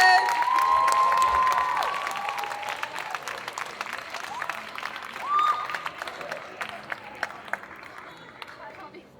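Audience at a Saturday cosplay contest on stage at Japan Addict Z 2023 applauds a makeup prize winner, steady clapping mixed with whistles and cheers that gradually thins and fades over the stretch.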